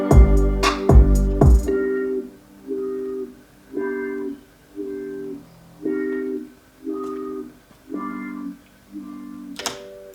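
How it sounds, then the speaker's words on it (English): A synth melody in FL Studio run through the Fruity Love Philter Wobble LFO preset, opening with a few loud struck hits, then a repeating phrase of rhythmic pulsing tones that swell and fade in regular bursts, with no talk. "you add Fruity Love filter, and there's one preset, I think it was the Wobble LFO"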